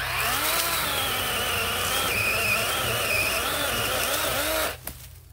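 A DeWalt 20V XR cordless electric chainsaw cuts through tree branches up close, giving a steady high whine with the pitch swelling and dipping under load. It stops abruptly near the end, and no one speaks.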